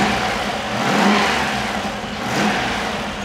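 A Rover V8 fitted with a Piper cam revs up on a workshop engine stand, its deep throb swelling twice in smooth throttle blips from a steady running note, loud and close.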